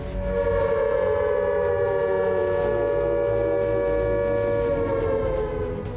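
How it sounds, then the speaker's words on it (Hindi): A loud, steady civil defense air raid siren wails continuously during a war mock drill in India, its tone holding nearly level throughout with no talking. "बजने वाला है जंग वाला सायरन।"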